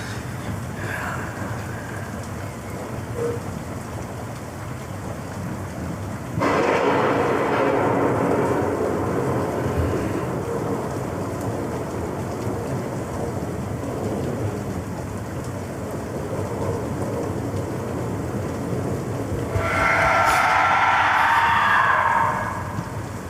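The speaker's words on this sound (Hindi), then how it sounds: "ये तूफान कब खत्म होगा यार?" Heavy rain pours steadily through a movie storm scene, with loud broadband bursts of downpour or thunder rumbling in around the middle and again near the end, no speech over it.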